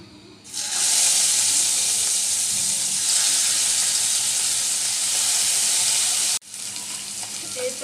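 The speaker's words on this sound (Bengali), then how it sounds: "আর অল্প সরিষার তেল দিয়ে দিচ্ছি মাছগুলো একটু বেজে নিব" Rohu fish pieces rubbed with salt and turmeric fry in mustard oil with a loud, bright, steady sizzle that starts abruptly, holds strong, then drops sharply near the end to a quieter crackle.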